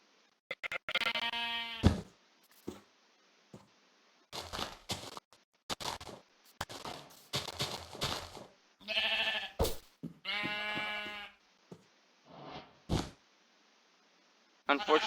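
Sheep bleating in Minecraft, a series of nasal, wavering blocky-game bleats in repeated bursts, loud and close, some overlapping, while a person talks over and between them.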